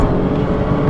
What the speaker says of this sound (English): first legitimate pull in the Charger Hellcat Widebody after its break-in period